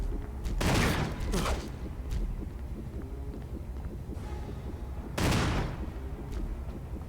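Gunfire aimed at a creature in the game Resident Evil HD, two heavy blasts a few seconds apart over a low rumbling ambience, with a few softer bangs between them.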